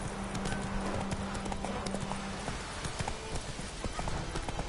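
A horse galloping in The Witcher 3 on PS4: a rapid, steady clip-clop of hooves, close and loud, over a game soundscape.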